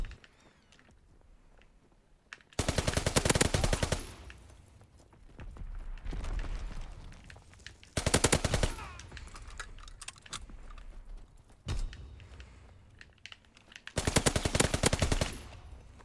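A RIBEYROLLES submachine gun fires in Call of Duty WW2 team deathmatch, in four loud, rapid full-auto bursts of about one to two seconds each. Quieter game ambience and scattered shots fill the gaps.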